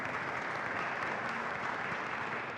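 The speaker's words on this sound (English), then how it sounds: "another round of applause to the panel" An audience applauds a cyber security panel with steady, dense clapping that holds at an even level through the whole moment, heard from a distance without voices over it.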